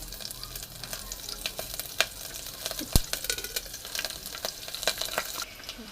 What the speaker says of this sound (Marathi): आता टाकणार आहोत मिरची.